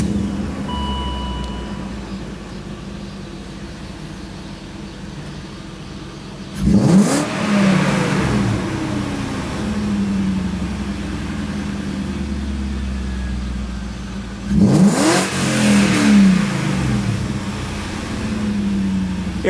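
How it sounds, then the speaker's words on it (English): A 1998 BMW 540i V8 engine turns over and revs twice, each loud exhaust roar rising and falling, in an enclosed echoing garage with a steady low rumble between. "I guess I can turn it over real quick here, and you can see how loud it is"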